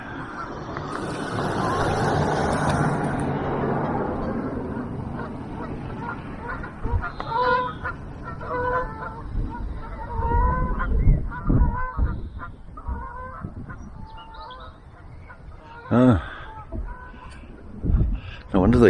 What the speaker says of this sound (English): Couple of geese coming in.